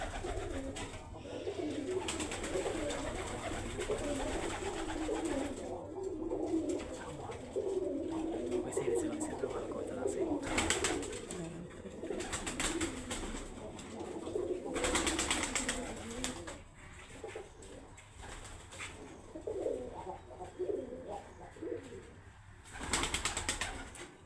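Lakka pigeons cooing on a pigeon farm, soft throaty coos repeating throughout over a rustling background, with occasional bursts of wing flapping or handling noise.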